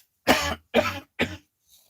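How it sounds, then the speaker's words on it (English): Three short, dry coughs in quick succession, close and fairly loud, with silence between them. "No, it's just a dry cough."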